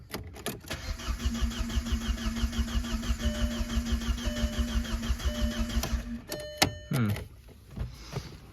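A Volkswagen Passat B5.5 with a 1.8T engine, left abandoned for ten years, cranks on the starter in a fast rhythmic churn for about six seconds without catching, then stops, followed by a few clicks and thumps.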